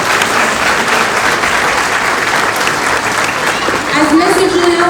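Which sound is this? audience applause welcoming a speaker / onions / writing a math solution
audience applause welcoming a speaker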